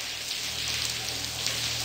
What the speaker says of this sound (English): It's pouring cats and dogs out here.